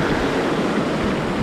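Sea waves roll on the Baltic coast in a continuous broad wash of surf, loud and near, mixed with wind buffeting the microphone.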